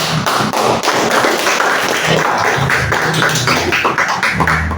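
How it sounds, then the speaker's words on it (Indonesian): Applause from a classroom audience after a student group's presentation during a teacher-training performance test, dense steady clapping throughout with no talk. "Kita kasih aplaus dulu"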